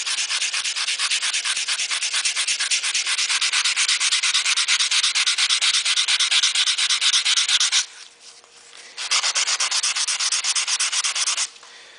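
Stainless steel hand-sanded with 150-grit paper over a filed area: steady, rapid rasping strokes run continuously and close up, with a short pause near the two-thirds mark before resuming. No one speaks.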